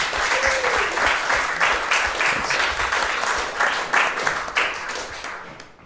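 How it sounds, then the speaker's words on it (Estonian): Steady, enthusiastic applause from a crowd for game contestants, dense clapping that continues throughout and fades slightly at the end. "Teeme siia vahepeale võistlejatele ühe väikse aplausi."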